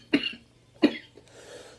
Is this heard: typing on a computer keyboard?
no